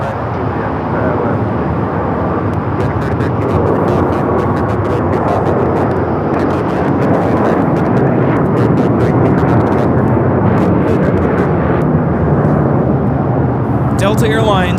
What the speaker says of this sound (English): Delta Airlines Flight 39 taking off to Shanghai on the A350-900.